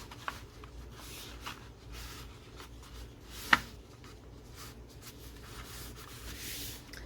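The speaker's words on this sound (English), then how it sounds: "crease this edge. Then fold this towards the center." A 12x12 sheet of paper being folded and creased, soft rubbing and sliding strokes close by with one sharp crease snap midway, quiet throughout.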